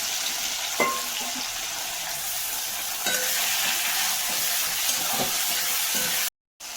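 Potatoes, onion and dried shrimp fry in a pan with a steady, close sizzle and hiss, broken by a few brief stirring scrapes and a short dropout near the end.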